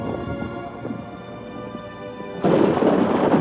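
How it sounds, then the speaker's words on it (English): Thunder from a lightning strike at a space shuttle launch pad rumbles at moderate loudness, then a louder, broader crash of sound breaks in partway through. "the launch pad is struck by a violent bolt of lightning."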